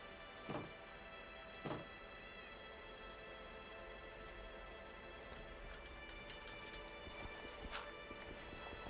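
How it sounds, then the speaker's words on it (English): Horse hooves in Minecraft, a few sharp clip-clop hits spaced out over a faint steady background, quiet and without talk. "I'm attempting to reverse a horse into a sensible location."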